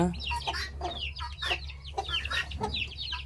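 Hens and chicks cluck and chirp in a busy overlapping chorus of short, high, repeated calls, close by over a low steady background hum.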